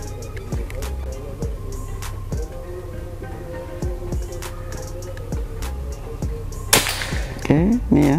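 A sharp shot from a Bocap Pajero Gen 5 PCP air rifle snaps near the end, standing out from a busy background of faint clicks and a continuous low hum.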